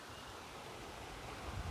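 River water rushes under strong pressure, washing away grass, as a steady, fairly faint broadband roar with no voices.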